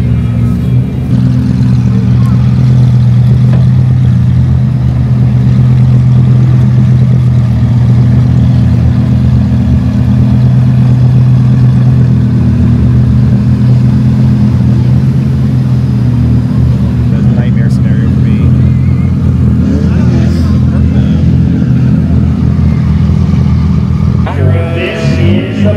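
GT race cars at Sonoma Raceway rumble steadily nearby as they manoeuvre and back into parking spots, a continuous low engine drone with occasional revs and light background noise toward the end.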